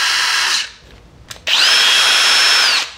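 A Kobalt 24 volt cordless drill whirs loudly in two bursts, a short run, a pause with a click, then a longer steady high whine that winds down at the end, close and with no talk.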